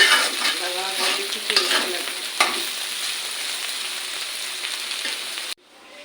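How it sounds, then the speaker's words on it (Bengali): Bitter gourd and potato frying together in oil, a close, bright, crackling sizzle with a few spatula scrapes and stirs, steady until it cuts off abruptly near the end. "আলু দিয়ে উস্তে ভাজা হয়ে গেছে"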